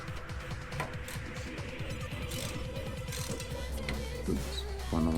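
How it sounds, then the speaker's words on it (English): A ratchet tightening bolts on a 2018 Indian Chieftain motorcycle gives off rapid, repeated mechanical clicking in steady runs, close up, with a hum underneath and a louder clunk near the end. "tightening up this these 2 bolts real quick with my ratchet"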